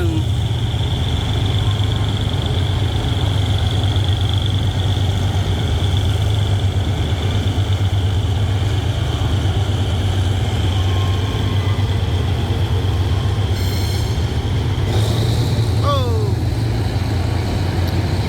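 A heavy diesel locomotive engine on a freight train rumbles loudly and steadily at close range as it revs, a deep throbbing drone that holds throughout with a brief higher squeal near the end.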